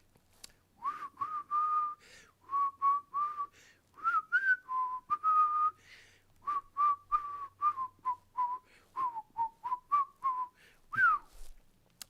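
A person whistles a series of short, clear tones in a quiet room, the notes steady and close, rising and falling slightly in a halting, practised sequence.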